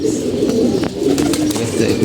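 A pigeon coos loudly and close in a continuous rolling murmur, a soft voice faintly underneath.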